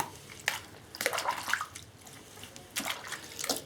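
A small brown amber glass bottle, mudlarked from the river, is rinsed out with water, giving intermittent splashing and sloshing bursts close by with short pauses between them and no talk.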